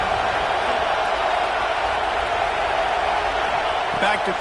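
A football stadium crowd roars steadily behind the home defense on a big third down in the red zone, a dense, loud wall of cheering that holds for the whole stretch, swelling slightly near the end.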